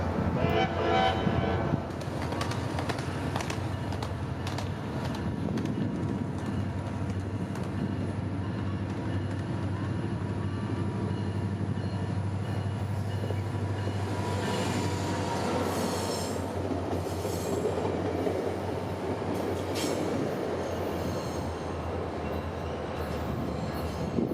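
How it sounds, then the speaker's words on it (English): A SunRail passenger train passes with P3 and P5 horns in Winter Park, Florida, with loud rumbling wheels, squealing rails and horn blasts, close and continuous for over twenty seconds, with no talk. "A lot of rail fans say that some of Sunrail's P3 and P5 horns can be atrocious."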